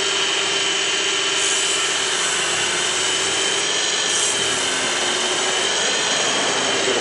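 A wood lathe spinning at its top speed range, belt set to the highest pulley, while turning a napkin ring: a steady, loud, continuous whirring hum with a sustained tonal drone, unbroken and close, with no talking.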